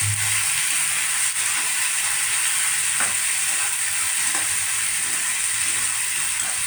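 Ground taro paste fries in a pan on a gas stove, making a steady, even hiss that carries on without a break, with a soft hum at the start and a few faint clicks.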